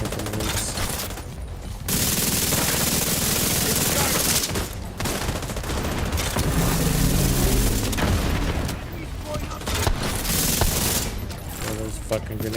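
Grenade explosions and dense gunfire erupt in The Division 2 combat, a loud sustained barrage with booms and rapid bursts running through most of the stretch, easing briefly a few times, with some talk mixed in.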